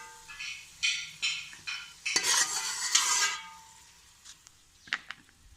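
Raisins sizzle and pop in a hot pan while a utensil scrapes and stirs in short strokes, then the frying settles to a quieter crackle.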